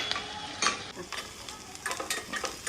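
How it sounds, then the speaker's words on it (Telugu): Onions fry in butter while being stirred, giving a close crackling sizzle with repeated short scrapes of the spoon through the pan. "బటర్ వేసుకుని ఫస్ట్ ఆనియన్స్ వేసుకొని కలుపుకున్న తర్వాత"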